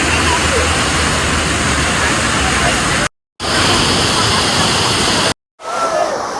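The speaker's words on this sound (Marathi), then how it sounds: "कसला वॉटरफॉल आहे एक नंबर जबरदस्त आहे" A monsoon waterfall at Matheran roars as a loud, steady broadband rush of falling water, broken by two brief silent gaps, with a softer, more distant stretch of water noise at the end.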